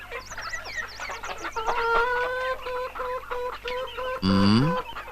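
Backyard hens cluck and chatter in quick repeated calls, with one louder drawn-out squawk near the end, close to the microphone and alone.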